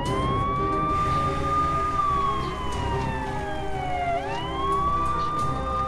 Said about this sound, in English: Turn off the siren, open the vehicle!